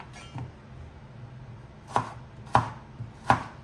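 Raw potatoes being cut into fries with a knife on a cutting board: a few soft strokes, then three sharp, evenly spaced chops close up.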